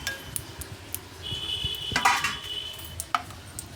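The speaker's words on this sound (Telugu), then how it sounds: "లోటస్ సీడ్స్ అన్నీ దీంట్లో పోసుకోవాలి." Lotus seeds (makhana) tipped into a pan make a brief rattling clatter of light pieces against metal, with a few sharp clinks and a scraping moment in the middle, fairly close and moderately loud with no talking.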